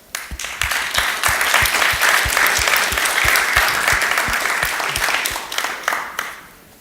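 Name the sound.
audience applause for speaker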